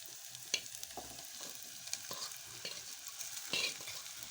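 Okra (bhindi) frying in a pan, a soft continuous sizzle with several faint clicks of stirring, quiet and close, no voices.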